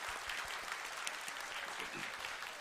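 A live audience at an anime convention podcast panel claps steadily, a dense, sustained patter of applause heard from a moderate distance.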